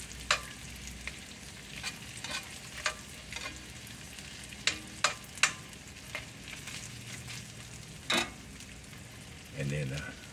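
Smoked bologna frying in a pan, a soft continuous sizzle under scattered sharp pops and utensil clicks, with a louder scrape near the end.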